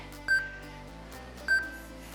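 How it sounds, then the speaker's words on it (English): A workout interval timer sounds two short electronic beeps, about a second apart, each ringing clearly over faint background music during a TRX lower-body session. "our last 30 seconds is gonna be a different timer beep"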